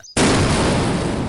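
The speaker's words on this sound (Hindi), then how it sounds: "जोरदार धमाका होता है" A loud explosion bursts in suddenly after a brief quiet moment, then a thick roaring blast rumbles on steadily to the end as a comic-story sound effect.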